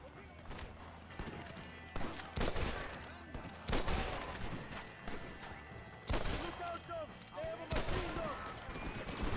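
Soldiers fire guns in the video game Red Dead Redemption, with repeated loud volleys and scattered shots in bursts, close and sharp, while a person talks over the shooting.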